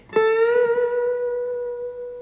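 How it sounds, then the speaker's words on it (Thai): A single guitar note is plucked, bent up and held, with a steady vibrato wobble sustaining and slowly fading over about two seconds, played alone. "ดันค้างไว้แล้วก็สั่นสาย"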